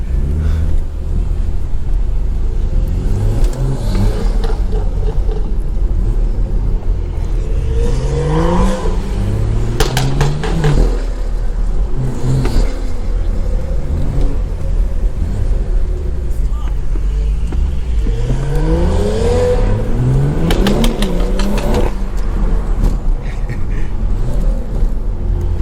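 A BMW with an N55 engine revs close by in a college parking lot, its deep rumble rising and falling in several bursts while people talk over it.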